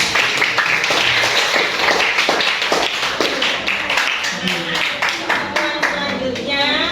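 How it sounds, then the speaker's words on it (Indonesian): Continuous applause from a group, steady rapid clapping throughout with a voice briefly heard beneath it. "Tepuk tangan untuk semuanya."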